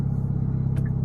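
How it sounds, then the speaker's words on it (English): Hyundai Elantra N with an aftermarket turbo inlet under way: a steady low engine drone and road rumble, with a brief hissy turbo spool rising near the end. "let me know if you can hear more of the turbo spooling"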